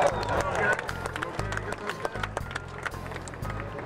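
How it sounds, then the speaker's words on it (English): An audience at a baseball team's fan fest claps and cheers in a brief burst of scattered applause, moderately loud and crowd-wide, fading into irregular individual claps. "let us know with your applause, Kevin Towers and Kirk Gibson"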